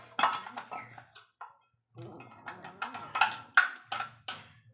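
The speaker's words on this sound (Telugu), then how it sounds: "ఇదిగో ఇలా మెదిగాక ఇప్పుడు మనం దీంట్లో దొండకాయ ముక్కలు వేసేద్దాం" Ivy gourd pieces are dropped into a mortar while making a pounded chutney, giving a series of sharp clinks and knocks in irregular bursts with brief pauses between them.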